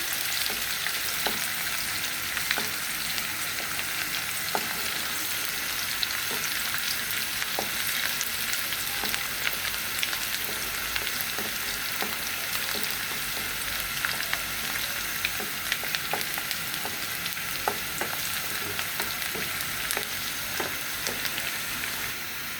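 Onions fry in a pan with a steady, dense sizzle and crackle, scattered pops and light stirring throughout, close and continuous without speech.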